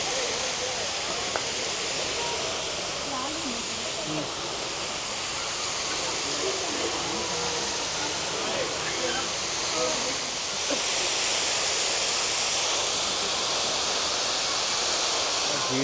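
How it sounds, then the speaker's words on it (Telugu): A water fountain in a Mysore garden splashes in a steady, dense rush of falling water that holds unbroken throughout. Voices come through faintly beneath it. "ఇది ఒక వాటర్ ఫౌంటైన్ అంతే."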